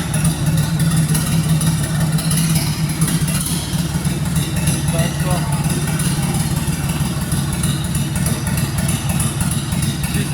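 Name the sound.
Mini tractor engine running while driving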